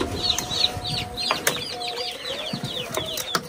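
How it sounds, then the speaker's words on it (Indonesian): Chickens clucking close by at a poultry farm, short repeated clucks and chirpy calls scattered through the clip, with a few sharp louder squawks and occasional wing rustles, no talk. "Itu suara apa dalam itu? Ayam."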